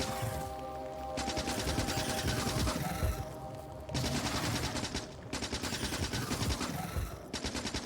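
Rapid automatic gunfire in the Factorio video game, long dense bursts of shots broken by short pauses, loud and continuous with a steady mechanical hum beneath.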